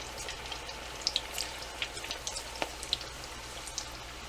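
Homemade French fries frying in oil in a cast iron skillet on a stovetop: a soft continuous sizzle with scattered sharp pops and crackles, close and fairly quiet, no talking.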